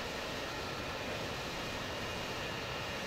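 Steady broadband roar of an airliner engine and airflow during a landing approach in a Roblox flight game, constant and fairly quiet with no talk.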